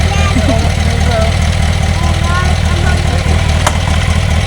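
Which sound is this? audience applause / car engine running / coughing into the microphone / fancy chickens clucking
car engine running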